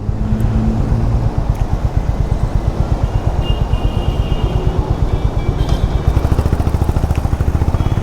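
A Honda CB350 motorcycle cruising at high speed, a loud continuous engine drone with rapid pulsing and heavy wind rush throughout.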